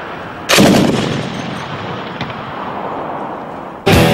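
A Kord heavy machine gun fires outdoors on a range, a loud sharp report at the start with a long rolling echo, then a second blast at the end.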